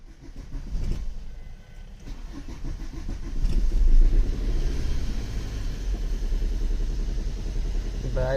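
A Mahindra Bolero engine turns over and settles into a steady low rumbling idle, fairly close and continuous, with faint voices in the background.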